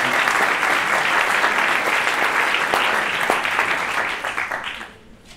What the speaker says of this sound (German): Also bitte Applaus